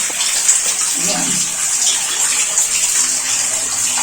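Water gushes steadily from an outdoor tap on a temporary water installation at a house under construction in Bulacan, Philippines, a loud, continuous hissing splash close by, with faint voices in the background.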